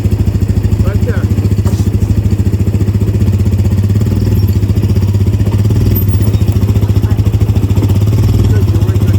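Vehicle engine idling steadily while maneuvering on an Alaskan beach at a camp, a loud, even low rumble with rapid regular firing pulses throughout and no speech.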